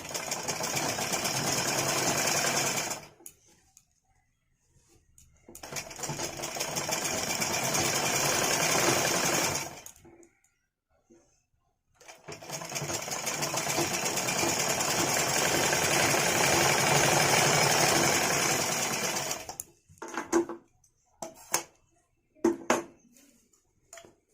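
Sewing machine stitching a choli cut blouse, joining the outer fabric to its lining, heard in three long steady whirring runs separated by pauses, with a few short bursts at the end; no talking.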